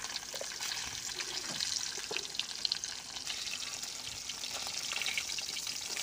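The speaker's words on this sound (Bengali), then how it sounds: "মাছগুলো ভালো করে ভেজে নেবেন" Tilapia pieces fry in oil in a wok, a quiet, even crackling hiss with scattered small pops throughout, no voices.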